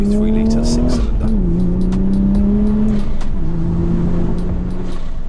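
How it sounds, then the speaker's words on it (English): A BMW three-litre six-cylinder engine drones steadily nearby, its low pitch dipping and holding as it runs, with wind buffeting in the background. "you might hear a BMW 3-litre six-cylinder"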